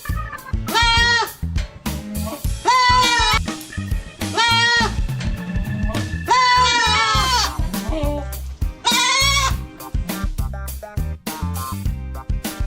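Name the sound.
goat bleating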